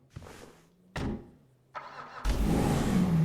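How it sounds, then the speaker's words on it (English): A car in Grand Theft Auto V being started and driven, with a series of separate engine bursts and rev sounds that build into a sustained louder engine roar, and no speech. "Press F to get into the car and we can drive it back now."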